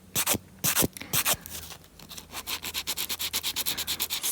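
Fingernails are smoothed with a 180-grit file in a backstage nail session: a few slow scraping strokes at first, then a fast, steady run of short, regular rasping rubs, close and fairly quiet, with no talking.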